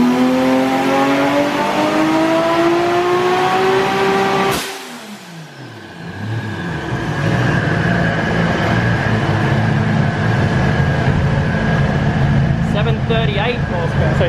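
A stock-block 2JZ engine in a Toyota Supra making roughly 700 wheel horsepower on a dyno pulls hard with a rising loud rev, cuts off abruptly partway through, then a steady roar and hum of fans or idle continue, with voices in the background.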